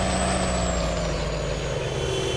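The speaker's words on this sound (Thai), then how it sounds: "เฮ้ยชอบเสียงเบรกอ่ะชอบจัดเลยว่ะเสียงเบรกอ่ะ" A heavy truck's air brake hisses in Farming Simulator 19, a loud, steady release of air over a low engine rumble that lasts throughout and slowly eases off.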